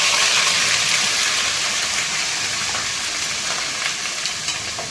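Ground onion paste drops into hot oil in a pan and sets off a loud, steady sizzle. Dense frying hiss and crackle run unbroken from start to finish, close up and with no voices.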